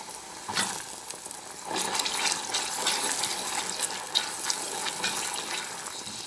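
Garlic and tomato concentrate frying in oil for a pizza sauce, a bright continuous sizzle with watery bubbling and spitting that swells after the first second and stays steady, close with no voices.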